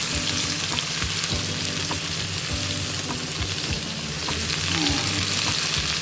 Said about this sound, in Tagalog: And hinalo mo yung mga potato and okra na hinati-hati.